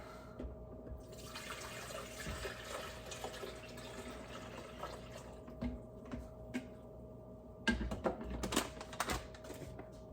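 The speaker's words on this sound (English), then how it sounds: "just gonna fill this up with some water, of course." Water is poured into a coffee maker at home, a faint, quiet trickle with a few soft clatters and knocks of handling, louder near the end, with no speech.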